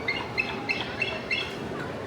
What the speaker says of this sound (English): Bald eagles in real life, they make a chirping noise.